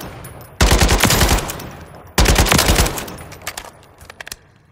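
AK-104 rifle fire from Call of Duty Modern Warfare III, two loud sustained bursts of rapid automatic shots separated by a short pause, trailing off into a few lighter mechanical clicks, no talk.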